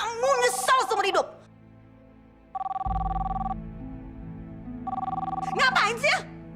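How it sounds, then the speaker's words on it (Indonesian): A telephone bell rings in short repeated bursts in a dramatic indoor scene, loud and close, with people talking tensely before and after the rings. "Jangan angkat itu telepon."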